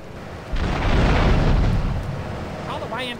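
An explosion in the video game Grand Theft Auto III bursts in with a broad, loud roar that swells and then rumbles on for a couple of seconds, with a brief chirpy game sound near the end.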